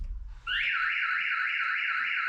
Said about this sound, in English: the alarm's going to go off